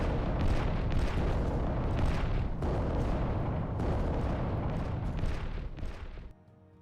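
In the video game Adeptus Titanicus, a Warhound titan fires in a series of heavy, booming bursts that roll one after another with rumbling tails, until the barrage cuts off abruptly near the end.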